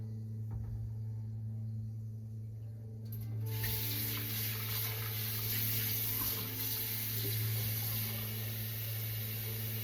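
Water from a tap starts flowing midway through, a steady rushing stream over a constant low background hum, continuing to the end.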